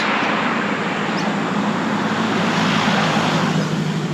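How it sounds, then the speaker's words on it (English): Steady roar of road traffic, cars rushing past nearby in a continuous wash of engine and tire noise, with no voices. "I can still hear the music clearly as cars go past"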